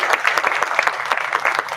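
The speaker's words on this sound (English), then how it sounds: "So we owe a big round of applause to CTC and A&M." An audience at an education summit claps together in steady, dense applause, loud and close throughout with no talking over it.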